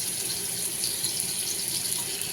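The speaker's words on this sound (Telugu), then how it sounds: "చూడండి చిట్టుపట్లాడుతుంది." Butter and oil heat in a pan for dum biryani, giving a continuous, close, hissing crackle that stays even throughout, with no speech.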